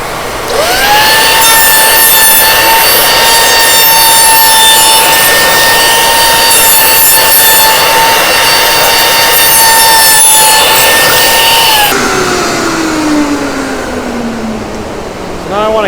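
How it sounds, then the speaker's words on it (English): Router table spinning at high speed, a loud steady high-pitched whine with a rough cutting rasp as a routed wood edge is cleaned up, then the motor winds down in a falling tone. "I'm gonna go ahead and clean that back up on the router table."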